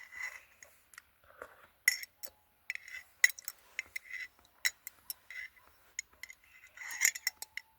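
A metal fork clinks and scrapes against a glass jar of pickled mushrooms up close in a forest, sharp irregular taps and clatters separated by short quiet gaps.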